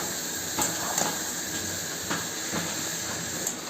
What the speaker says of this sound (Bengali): এইভাবে সুন্দর করে কষিয়ে দেবেন। দেখেছেন আমার মাংস থেকে তেল ছাড়তে শুরু করেছে।